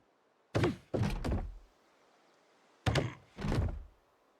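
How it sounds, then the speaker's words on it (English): A crate is set down beside a fire in Project Zomboid, giving two pairs of hollow wooden thunks, each pair a sharp knock followed by a heavier bump, close and clear over a quiet background. "Okay, I'm placing a crate beside the fire."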